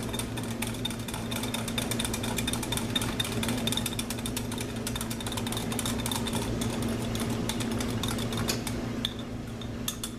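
An electric mixer, or a whisk against a pot, blending flour into milk for cream of chicken, a steady mechanical whir with rapid clicking and rattling that runs close and constant, without talk.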